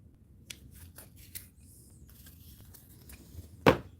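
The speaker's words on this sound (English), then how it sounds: "I might have to just get scissors." Scissors snipping through a trading card while a custom patch card is made, heard as a few scattered light clicks and paper scrapes, ending in one sharp, close cut near the end; no talk.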